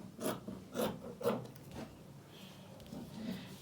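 Fabric for a top or dress is trimmed close by, giving a few soft rasping cuts in a quick rhythm followed by fainter rubbing, all quiet with no talk.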